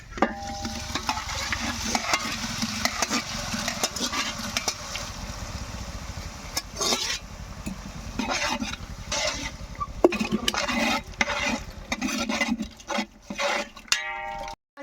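Prawn biryani ingredients mixed in a pot in a village kitchen: continuous scraping and stirring over a loud frying hiss, with occasional clanks of the spoon against the pot's rim.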